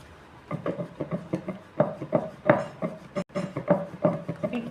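A rolling pin flattens urad flour papad dough on a board in a home kitchen. It gives close, soft wooden rubbing and rolling strokes with light knocks in an irregular back-and-forth rhythm, with no talking.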